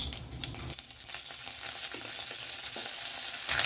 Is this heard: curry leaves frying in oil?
yes